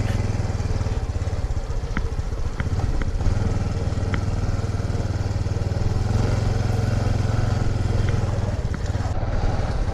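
A new Honda CT125 motorcycle's engine hums steadily and close during a trail ride, with a low continuous drone and occasional clatter from the bike over ten seconds.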